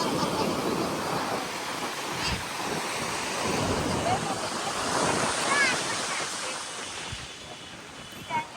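Ocean waves at a beach at night wash in as a steady, broad roar with gentle surges and some wind noise, continuous throughout at moderate distance.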